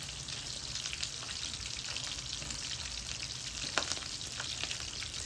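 Buyad, dried fish, frying in a pan with a dense continuous sizzle and hiss, close and even in level with an occasional louder pop, no talking.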